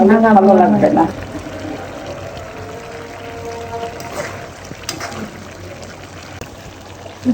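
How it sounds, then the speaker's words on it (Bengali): Hot water is poured into a fish head curry with potato and eggplant, a steady close splash and trickle that runs for several seconds after a brief spoken phrase at the start. "একটু পানি দিলাম গরম পানি"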